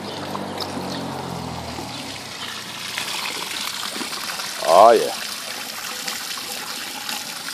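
Water rushes steadily out of a PVC aquarium overflow pipe running at full flow with its drain cover removed, a continuous close gushing and splashing, with a short spoken exclamation midway.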